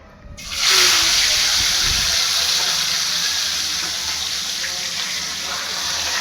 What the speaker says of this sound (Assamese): ইয়াত ডাঙৰ বোৱাৰী মাছ ভাজি আছে, তাকো ভৌকা মাছ